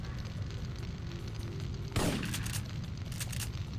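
A single sharp gunshot in the video game Syphon Filter cracks out midway over a low game rumble, followed by a short echoing tail, with no voices.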